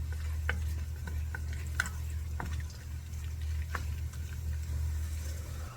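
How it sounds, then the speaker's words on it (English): Bacon renders in a pot for conch chowder with a constant low sizzle close by, dotted with small pops and scattered clicks of stirring over a steady background hum. "I'm going to render this bacon down"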